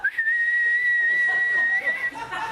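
A person whistles a long, steady, Lassie-style call to a dog, holding one note for about two seconds, with a short upward flick at the start and a small slide near the end, then faint murmuring.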